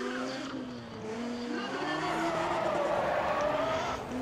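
Tires squeal loudly and continuously as a car drifts in the racing game Need for Speed ProStreet, with the engine droning underneath, the screech building and holding steady over a few seconds.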